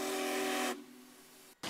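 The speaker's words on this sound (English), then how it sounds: "gathered to hear the whistle blow and see the iconic train" Whistle of the Union Pacific Big Boy steam locomotive at a crowded Golden Spike anniversary event in Utah, one loud steady hiss-laden blast lasting under a second before cutting off, then a quieter tail and a brief burst at the end.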